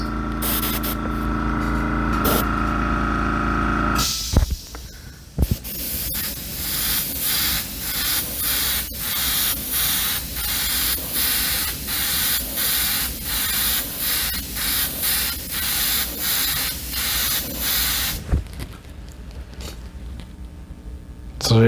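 Yellow paint sprays from a spray gun or airbrush in a rapid series of short regular bursts, loud and close, bracketed by longer continuous hissing, with no talking.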